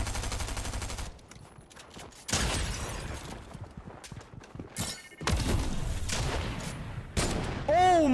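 Fortnite shotgun blasts in a match: a few loud, separated booming shots with bursts of other weapon fire and impacts between them, close and punchy, with game effects.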